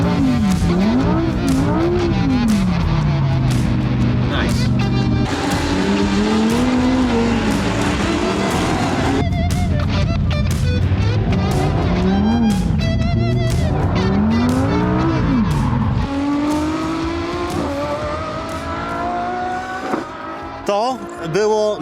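A Lamborghini Huracan Super Trofeo EVO 2 race car screams through rising and falling revs with tire squeal during a slow drift, loud and close, with someone speaking over it.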